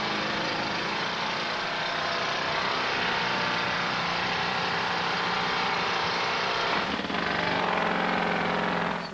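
A rock drill boring blast holes into a mine wall, a loud steady droning roar that runs unbroken and alone, shifting slightly in pitch near the end.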